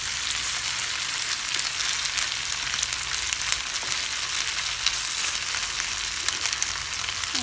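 Beef pieces fry for beef chilli in a pan, giving a dense, even hiss and crackle of hot oil that continues loud and close, with occasional sharper pops.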